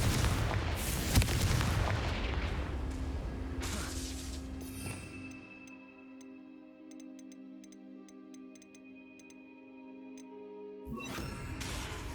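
The Confringo fire spell in Hogwarts Legacy bursts in a booming, rumbling blast lasting several seconds before fading into a quiet, ringing tonal hum with faint ticks, then another rush of noise at the end.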